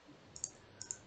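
Two quick double clicks of a computer mouse, faint and close, the second pair coming about half a second after the first over a quiet room background.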